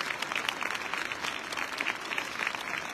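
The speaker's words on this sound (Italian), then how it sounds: "Un grande applauso e di incoraggiamento, belli e coraggiosi." An audience at a Christmas concert applauds a group of children, steady moderate clapping from a crowd at middle distance with no one talking over it.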